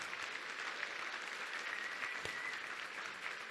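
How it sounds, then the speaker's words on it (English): An audience at the Contact in the Desert 2018 conference applauds, with sustained, dense clapping from a sizeable crowd heard at moderate distance throughout. "let's give them a big round of applause"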